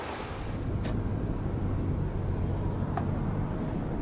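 A river near Sochi rushes along, a steady broadband roar of flowing water close to the microphone that holds at an even level with only a couple of faint brief clicks.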